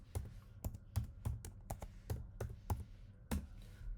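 A computer keyboard being typed on while entering a password: about ten crisp, close key taps in an uneven rhythm, quiet and with no talking.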